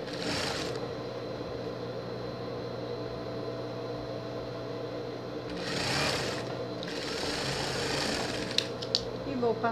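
A sewing machine stitching the side seam of a pet jumpsuit, a continuous low mechanical hum with brief louder bursts, heard close in a quiet room.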